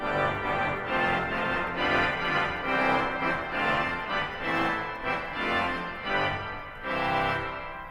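Gentle French-style petite trompette 8-foot and 4-foot stops combined on a large church pipe organ, playing a steady, moderately loud sequence of sustained chords and notes alone, with no talk.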